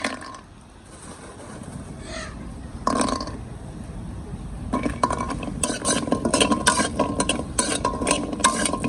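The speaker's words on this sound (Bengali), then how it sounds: "প্রথমে আমি কুমড়ো বড়ি ভেজে নেব, সেই জন্য অল্প করে তেল দিয়ে দেবো।" Pumpkin lentil dumplings (kumro bori) fry in a little oil, with spoon stirring and clinks against the pan over a low sizzle that builds into busier, louder scraping in the second half.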